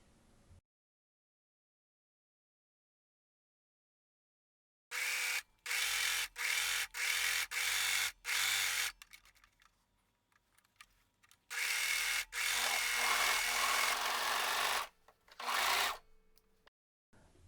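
A sewing machine runs in repeated loud bursts while serging or zigzag stitching fabric edges, with short pauses between runs after a long silent stretch.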